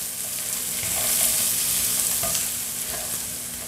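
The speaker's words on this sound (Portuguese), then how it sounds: "Alho já refogando, a gente vai colocar aqui um pouquinho de cebola." Garlic and a little onion sauté in a frying pan, a steady close sizzle with intermittent scraping and stirring clicks from a utensil, no talking.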